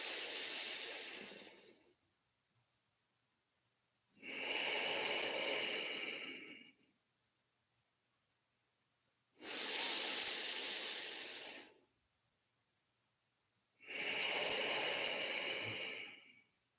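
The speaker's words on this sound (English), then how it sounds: "Again, take 2 more breaths here." Slow, deep breaths taken during a guided breathing exercise: three long, steady airy exhales and inhales, each lasting about two seconds with quiet pauses between, close and soft with no talking.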